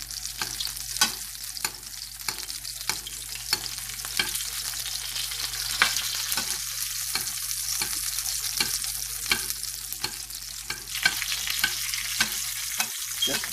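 Fish sizzling in a pan while being basted with herb oil, a steady frying hiss broken by sharp spoon taps and spatters, close and fairly quiet with no talking.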